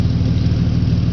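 A 1992 EB Ford Falcon series 2 with an aftermarket straight-through exhaust and large pipe idles nearby, giving a loud, steady, deep rumble with no talk.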